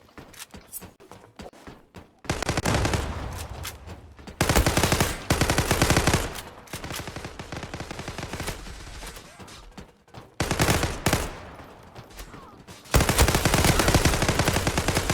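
Rapid bursts of FN FAL Pro rifle fire in the online shooter Zula, loud, sustained volleys separated by short quieter gaps with faint footsteps, no talking.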